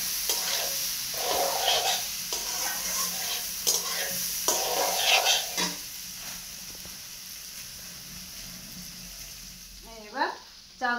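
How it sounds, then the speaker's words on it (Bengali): Ingredients frying together in a hot pan while being stirred, with bursts of sizzling and scraping in the first half, then a quieter hiss, and a brief voice near the end. "সবগুলো আমি একসঙ্গে ভেজে নেব।"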